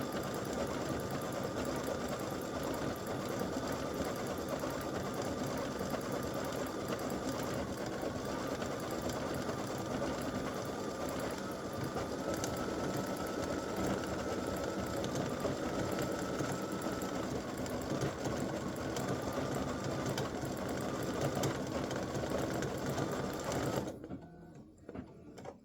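An embroidery sewing machine stitches a green bow and then a gold bow, running as a steady, continuous mechanical whir with rapid needle clatter for about 24 seconds before stopping abruptly near the end.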